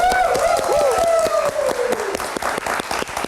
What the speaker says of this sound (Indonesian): Anggia Karisma, boleh tepuk tangannya.